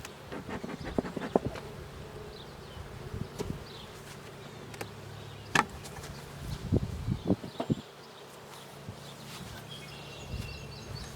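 Dense honey bee buzzing fills the air at a hive as bees are cleared from a super, a continuous drone punctuated by scattered knocks and thumps of equipment.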